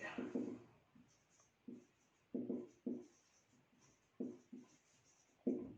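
A pen writes out a maths solution for a definite integration problem in quiet, intermittent scratchy strokes close to the microphone, grouped in short bursts with pauses between and no voice.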